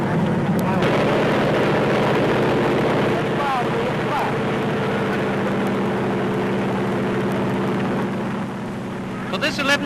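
A steady, droning aeroplane engine hums continuously at close range during a final tune-up, with a sharp click or rattle now and then, easing off slightly near the end.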